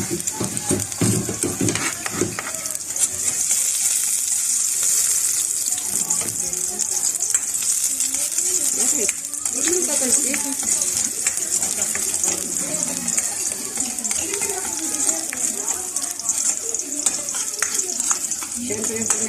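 Garlic sizzles and fries in a pan as a sauce base, a steady bright hiss with bursts of stirring and clinking, and a voice talks intermittently over it.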